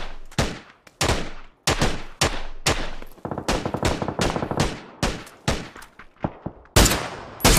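Repeated gunshots and bursts of gunfire in the battle royale game PUBG, loud and close, firing in uneven clusters with sharp decaying cracks and brief pauses between volleys, no talking.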